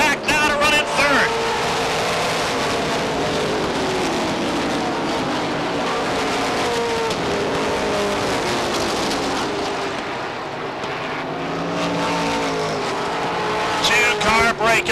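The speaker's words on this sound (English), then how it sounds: "Paul Johnson coming out of the back of the pack now to run in 3rd." Stock race cars roar around Beech Ridge Motor Speedway in a 1991 ACT Coca-Cola 100 race, engines whining and rising in pitch as they pass, with a commentator talking over the constant racing noise.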